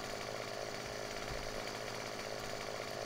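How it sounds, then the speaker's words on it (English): Chainsaw cutting a tree in Farming Simulator 17, a loud, continuous buzzing engine drone held at a steady pitch with slight wavering, close and uninterrupted throughout. "I feel like my chainsaw is not letting me cut things right"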